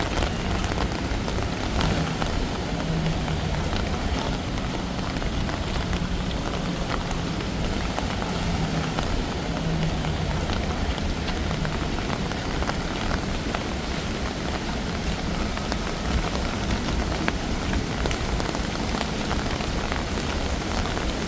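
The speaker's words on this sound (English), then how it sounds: "as you can hear, we're having a mild rain now" Mild rain falls steadily on pavement on a rainy-season night in Bangkok, a continuous, even hiss of drops with no pauses and no voices.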